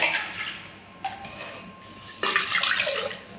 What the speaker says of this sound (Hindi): तो इसमें डालते हैं अभी पानी